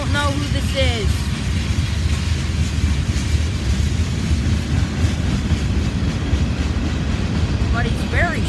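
A short freight train of about 30 cars passes through Folkston, Georgia, with a steady heavy rumble and rattle of wagons throughout. Brief voices surface near the start and end.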